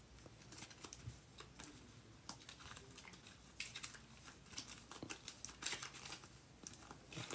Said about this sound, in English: So I'm gonna shuffle this up for a little bit here.